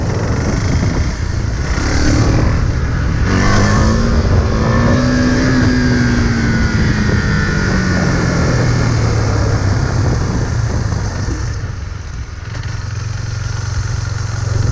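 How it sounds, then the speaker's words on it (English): A motorcycle engine roars close and loud while the rider power-wheelies it up to the balance point, a steady drone whose pitch climbs and sags with the throttle. "So I just power wheelie it until I get it up on balance point."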